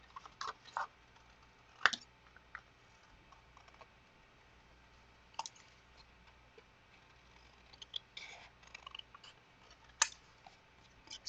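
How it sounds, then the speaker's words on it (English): Large scissors snipping through colored paper for a cat collage, heard as sparse, quiet clicks and short cutting bursts spread across a near-silent background. "Let's see how these huge scissors do cutting this out."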